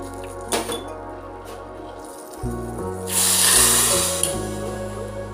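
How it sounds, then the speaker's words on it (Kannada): Water splashes and hisses steadily into a pan of sugar for a couple of seconds, loud and close, with a low hum running underneath, as a cup of water is added for gulab jamun syrup. "ಈಗ ಅದೇ 1 ಕಪ್ಲಿಂದ"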